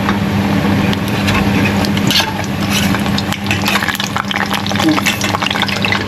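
Hot oil bubbles and crackles loudly as stray water drips into a pan of frying paruppu vadai, a steady close dense sizzle with scattered pops throughout.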